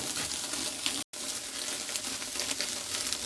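Steaks sear on a smoky outdoor BBQ grill under a lean-to, giving a steady, soft hiss and sizzle that runs continuously and fairly faint, broken by one brief dropout of silence.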